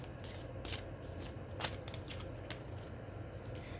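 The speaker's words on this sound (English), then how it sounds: "let's go ahead and shuffle the tarot" A deck of tarot cards being shuffled nearby, a steady papery riffle with a few sharper snaps, running throughout on its own.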